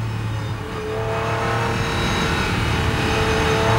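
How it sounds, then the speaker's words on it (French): An Aston Martin DBRS9 GT3 race car's V12 engine revs inside the cabin on a circuit: a loud, steady, rising engine drone that fills the space with no talking. "Le fameux V12 emplit l'habitacle."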